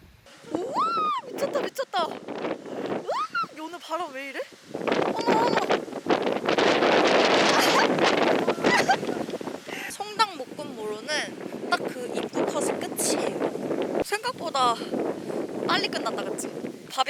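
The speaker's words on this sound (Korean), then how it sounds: "바람 장난 아니야." Strong gusting wind buffets the microphone outdoors on Jeju Island, a loud steady roar through most of the stretch, with people talking close by at the start and again near the end.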